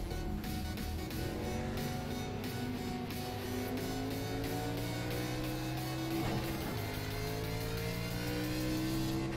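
Race car in the iRacing sim driving laps, its engine droning steadily with rising and falling rev sweeps through gear changes, continuous and close with no talk.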